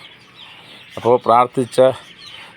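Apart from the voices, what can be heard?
chickens clucking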